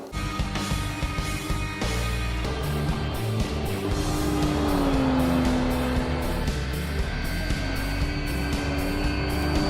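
Race car engines in Forza Motorsport, a loud steady whine with rising and falling revs and gear changes, close and continuous with no talk.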